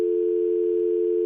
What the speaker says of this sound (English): I'll dial them up right now